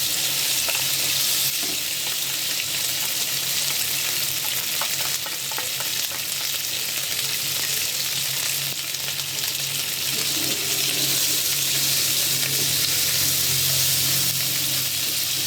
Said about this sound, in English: We're gonna first fry our pork first.